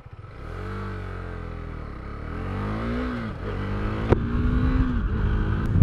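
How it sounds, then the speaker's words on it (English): A Husqvarna Svartpilen 401 (2020) single-cylinder motorcycle on its stock exhaust, ridden and revved through rising and falling gears, a steady close engine drone that climbs and drops in pitch with each throttle change, with no talking. "If you've seen any of our Duke 390 videos, this exhaust sounds very familiar to you."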